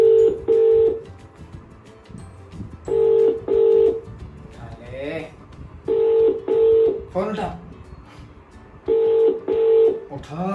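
Touch-tone keypad beeps from a mobile phone as a number is dialed, short dual-tone bursts in quick pairs repeating several times at close range, with brief talk in between.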